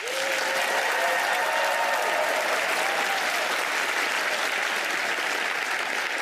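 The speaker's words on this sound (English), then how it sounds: "let's hear by sound of applause" Loud, steady audience applause from a television magic-show crowd fills the stretch without pause, with a few cheers and whoops riding over the dense clapping.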